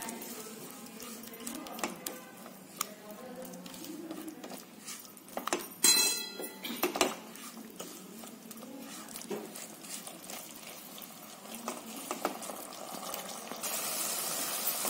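Sweet-and-sour tomato chutney with raisins and red chilli powder cooks in a pan, giving soft bubbling and patter along with occasional clinks of a utensil against the pan, fairly quiet and without speech.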